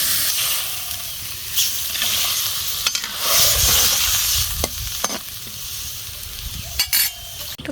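Mixed vegetables and taro stolons sautéing in a pan for a hilsa fish curry, a close, steady sizzle and hiss with stirring and occasional utensil knocks.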